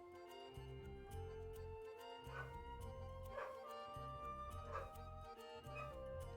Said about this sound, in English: I think these dogs discovered that I'm here.